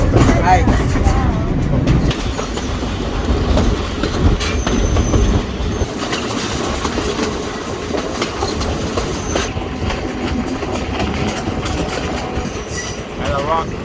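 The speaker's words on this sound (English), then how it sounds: "Sri Lanka train, third class." A third-class carriage on a Sri Lankan train rumbles along with continuous clickety-clack of wheels and rattling, and faint voices mixed into the steady noise.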